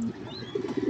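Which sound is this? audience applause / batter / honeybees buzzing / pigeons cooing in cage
pigeons cooing in cage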